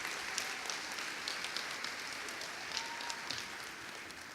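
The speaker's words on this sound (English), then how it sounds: "I'd like to give them another round of applause" An outdoor audience gives a round of applause at the Port Coquitlam May Day opening ceremony. The clapping is faint and distant, a steady, even patter with a few sharper claps standing out.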